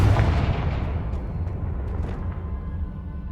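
Confringo fire spell blast in the Hogwarts Legacy video game, a loud, dense burst of rumbling explosive noise that stays heavy and steady for a few seconds before slowly thinning.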